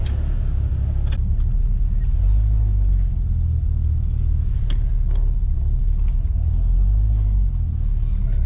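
A vintage Chevy C10 truck that sat for 33 years drives along with a loud, rough low engine rumble, the drone steady and close, and a few faint knocks and rattles on top.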